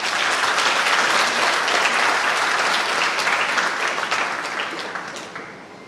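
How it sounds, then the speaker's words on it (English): Audience at a school promotion ceremony breaking into dense, sustained applause, a loud continuous wash of many hands clapping that holds steady and then gradually tapers off near the end. "A round of applause to Dave John Marie D.C. Mamarado."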